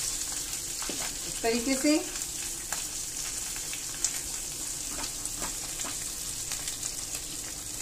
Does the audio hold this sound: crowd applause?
no